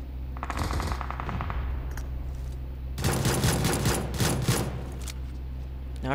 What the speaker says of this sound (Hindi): यहाँ कमरान को 1 HP कर दिया भाई, पिस्टल से मार रहा है बंदा